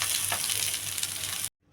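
Onion, garlic and finely chopped green chillies fry in a pan with a close, steady sizzle that cuts off abruptly into near silence.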